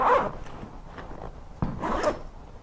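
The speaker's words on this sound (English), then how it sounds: "bring the zippers around" A zipper runs around a Pacsafe Toursafe anti-theft wheeled bag in a few close rasping pulls, separated by short pauses and a soft knock, with no talking.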